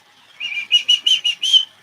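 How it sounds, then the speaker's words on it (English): Several bright, rapid bird chirps in a short run of five or six notes, close and clear against a quiet background with no talking. "The bird came back."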